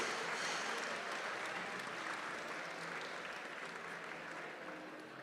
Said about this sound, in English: Let's give the future of Manitoba's business community a big round of applause.